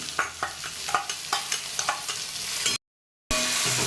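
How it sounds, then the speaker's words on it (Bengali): Spice paste of cumin, coriander, ginger, garlic and chilli with tomato, Kashmiri chilli, turmeric and salt is stirred and fried in a pan for crab curry: rhythmic scraping strokes over a steady close sizzle, briefly cut to silence near the end. "এবার একটু নাড়াচাড়া করে নিচ্ছি, মশলাটা ভাজা ভাজা করে নেন"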